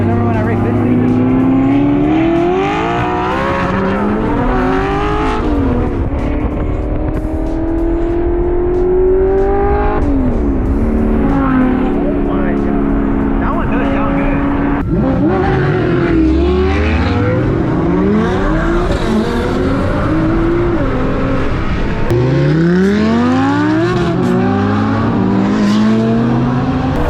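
A Nissan GT-R races around a track, its engine revving hard and repeatedly climbing and dropping through gear changes, loud and close, with brief tire squeal and other cars passing.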